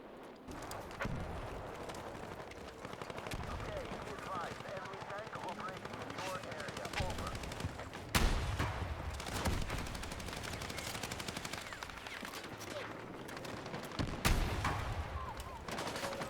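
Gunfire in the video game Battlefield 6 during a Breakthrough defense match, with dense rapid automatic bursts crackling almost continuously and heavier booms at intervals, mixed with battlefield noise over a steady, fairly loud bed.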